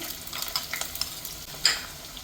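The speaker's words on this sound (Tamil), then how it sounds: "எண்ணெய் காஞ்சோடுக்கு நம்ம ஒரு பீஸ் இஞ்சியும் ஒரு குட்டி வெங்காயம் எடுத்துகிட்டு அறுத்து வச்சுருக்குறோம், அதுவும் போட்டுக்கலாம்." Ginger and small shallots frying in hot oil for a sardine curry, a soft crackling sizzle with light stirring scrapes and one sharper spatter near the end, close and fairly quiet with no talking.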